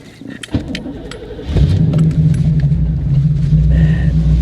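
A 1991 Camaro Z28 with a five-speed fires up: a brief starter crank and clatter, then the V8 catches and settles into a loud, steady, deep rumbling idle up close.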